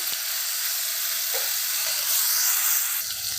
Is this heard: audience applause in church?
no